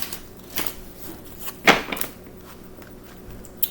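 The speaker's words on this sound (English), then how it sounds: "Going to give them one more wonderful shuffle." Deck of tarot cards being shuffled by hand, a few soft riffling bursts and one sharp snap of cards close to the mic, with quiet pauses between.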